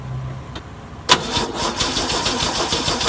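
A Land Rover Series 2a engine cranks and catches with a sharp burst, then settles into a rough, uneven idle that continues close and loud to the end.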